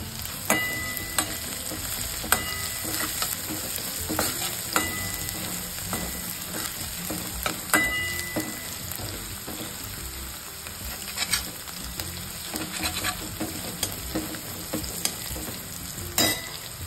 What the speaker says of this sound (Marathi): जास्त लाल करून नाही घ्यायची आपल्याला लसूण वगैरे.